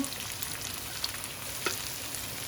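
Chicken with onion, capsicum and chillies frying in a pan, a steady soft sizzle with faint crackle throughout and a couple of brief clinks from stirring, with no talk.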